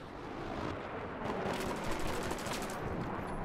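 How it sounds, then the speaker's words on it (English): Gunfire from enemies below in Battlefield 3 on Operation Firestorm, rapid sustained automatic bursts and shots that blend into a dense continuous rattle. "they're shooting below me"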